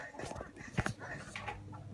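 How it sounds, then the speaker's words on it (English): A dog pants and gives a short whine amid a noisy room, with a low steady hum underneath. "No, I don't need you guys barking right now."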